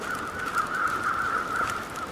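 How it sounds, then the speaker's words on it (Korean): A crow cawing in the wilderness survival video game The Long Dark, one drawn-out raspy call at moderate loudness over a quiet background, heard alone. "아, 까마귀 소리."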